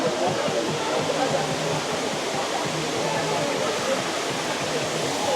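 Multi-stage waterfall in the American Southwest, water crashing with a thick, loud airy roar that never lets up, while a low rhythmic rumble pulses beneath it.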